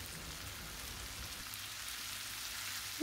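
Chopped purslane, salted, frying and toasting in a pan, giving a steady soft hiss and crackle throughout with no talk.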